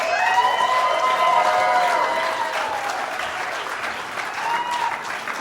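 A comedy club crowd at a showcase applauds and cheers for comedian Jen K, with a loud, sustained burst of clapping that tapers slightly toward the end.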